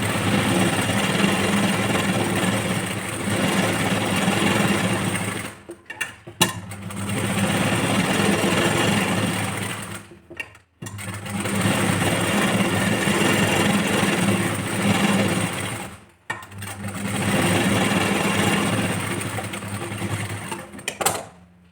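A sewing machine stitches blouse cup pieces in long loud continuous runs, with brief pauses between bursts and no talking.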